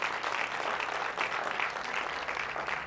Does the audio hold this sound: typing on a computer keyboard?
no